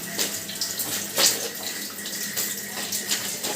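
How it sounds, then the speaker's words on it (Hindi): A blanket soaked in detergent water is trampled underfoot, giving continuous wet sloshing and splashing with a few sharper splashes, fairly close and steady, with no talking. "ऐसे पैरों से कुचल के इसमें से जो ये धूल मिट्टी वाला पानी निकल रहा है"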